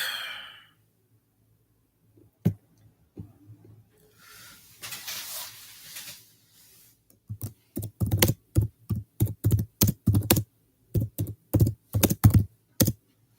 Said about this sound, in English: I'm gonna have to type this out.